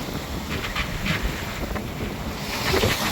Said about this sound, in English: the apparent wind speed is right now just between 18 and 23 knots